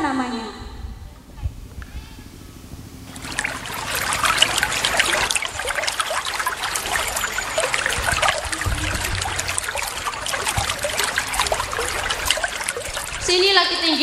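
River water in a forest flows and trickles steadily, a continuous splashing rush that swells after a quieter start and runs to the end.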